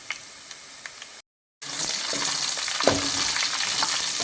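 Green chillies sautéing with onions in a pan for vegetable pulao, a soft sizzle that cuts out briefly and then returns as a loud, steady hiss with occasional stirring knocks.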